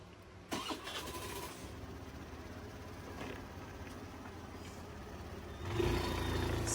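A vehicle engine cranks and catches, settles into a steady nearby idle, then revs up briefly near the end, with no voices.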